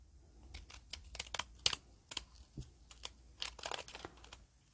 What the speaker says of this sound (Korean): 뾰족뾰족 핑킹가위를 한번 잘라볼게요